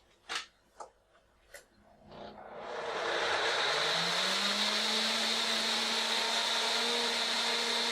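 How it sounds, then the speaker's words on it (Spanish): A few clicks and knocks, then a blender motor spins up and runs loudly and steadily with a high whirring whine, blending beans. "Para proceder a licuarlos."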